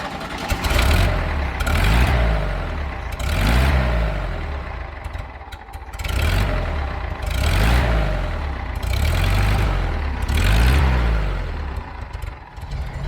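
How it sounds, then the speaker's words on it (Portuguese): A 1975 Volkswagen Fusca engine is revved repeatedly after starting, loud and close, rising and falling in about five regular surges over a rough idle. "vou dar a partida no motor e finalmente a gente vai poder dar uma volta"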